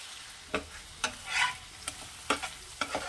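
Egg curry with tomato paste being stirred in a pan, sharp intermittent scrapes and taps of a spoon roughly every half second over a faint low sizzle, close and quiet, with nobody speaking.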